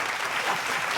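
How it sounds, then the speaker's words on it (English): A crowd at a sneaker-customs talk show applauds in a dense, continuous wash of clapping, loud and close throughout the brief burst. "Applause, please."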